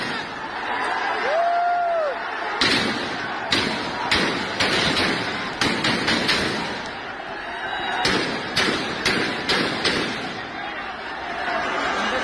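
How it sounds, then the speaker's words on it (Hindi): Gunfire at protesters outside the presidential palace in Sri Lanka, with sharp loud cracks in scattered bursts, some in quick clusters, over the roar of a crowd and voices. "किस तरीके से जो प्रदर्शनकारी थे उन पर फायरिंग की गई।"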